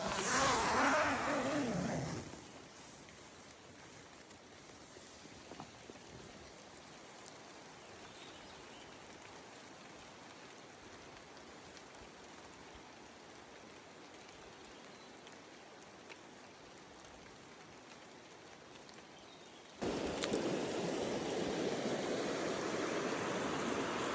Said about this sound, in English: the rain is coming down sideways.